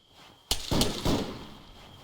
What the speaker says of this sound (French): Les coups de feu reprennent.